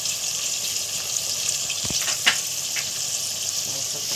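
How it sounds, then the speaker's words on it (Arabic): Cumin seeds and a bay leaf dropped into hot oil for Egyptian koshari give a soft, steady sizzle close by, with a few brief crackles and pops partway through; no talking. "هنحط عليهم حبة كمون، حبة كمون اهو، ورقة لورا وقعت اهي شلناها"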